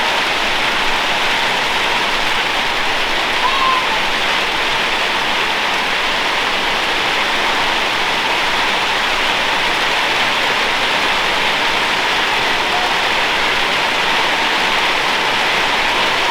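Steady rain drumming on a roof, a dense, even hiss that holds at constant loudness throughout, with no voices.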